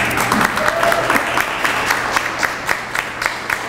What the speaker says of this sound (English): Give her a round of applause, Estela Reyes.